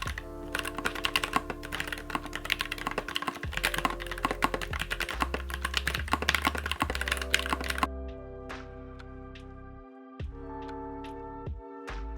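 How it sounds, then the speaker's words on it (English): Fast, continuous keystrokes clatter on a Keychron K3 Pro mechanical keyboard, then slow to a handful of isolated clicks over a quieter background. "And here's the K3 Pro."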